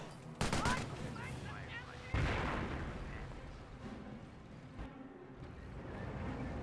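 Gunfire and artillery in the World War II strategy game Company of Heroes, with sharp bursts of shots and booming impacts at the start and middle, followed by a rumbling battle that fades out, while a voice talks over it.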